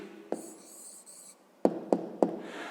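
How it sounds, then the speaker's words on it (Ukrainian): Pen writing an answer on paper: a short stretch of faint scratchy scribbling, then three quick firm taps or strokes close by, with no talk. "Пишемо тоді відповідь."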